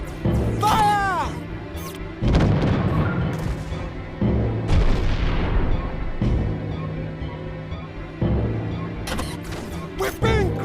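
Ship cannons boom repeatedly during an animated space battle in Treasure Planet, loud bursts in an irregular volley mixed with shouting voices and whooshing effects.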